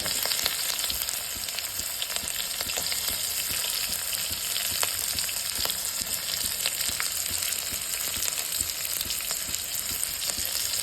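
Onion frying in hot oil with mustard seeds, cumin and curry leaves for a spicy potato dish, a steady dense sizzle with occasional stirring clicks throughout, close and continuous.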